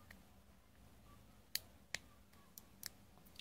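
A small plastic part clicks into place inside an Alcatel 2005D dual-SIM phone, giving a few sharp, close clicks spread over a quiet stretch with no voices.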